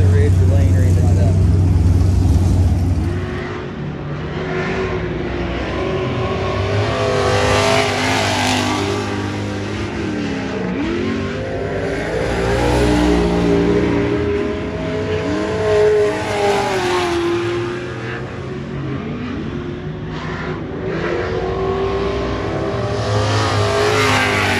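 A race car engine fitted with a new carburetor runs steadily and loudly at practice ahead of an MSSS season opener, its throaty drone rising and falling slightly throughout while people talk over it.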